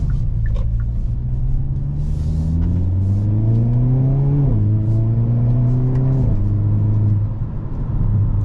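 A 2023 Hyundai Kona N engine revs hard through the gears: a loud, close growl climbs in pitch, drops at each upshift, then climbs again, with no talking.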